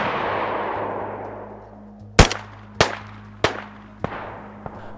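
SVD rifle shots in the video game DayZ: four sharp, loud cracks spaced about a second apart, each with a brief ringing tail, the later ones slightly fainter, over a low steady hum.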